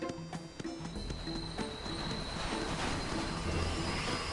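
Train in the Cashbot HQ area of the ToonTown Online video game, rumbling steadily with a repeating rhythmic clatter and a faint high whine throughout, no voices.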